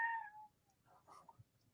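A pet cat gives a faint meow that trails off, followed by a few soft, short chirps and small indoor noises, quiet and fairly close with no talk.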